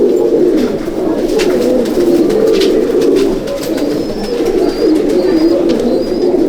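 A pair of Malwai pigeons from a champion Punjab breeding loft coo in a loud, close, rolling drone that rises and falls steadily, with a few faint chirps on top.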